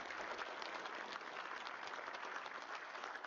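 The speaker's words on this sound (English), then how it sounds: "Let's give her a round of applause." A crowd at an athletic hall of fame induction ceremony applauds in a continuous, dense patter, heard faint and distant but steady throughout, with no speech.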